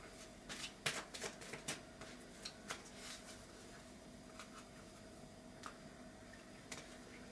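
Lenormand fortune-telling cards being shuffled by hand, a quiet run of soft riffling flicks and papery taps that cluster near the start and then thin out to sparse light snaps.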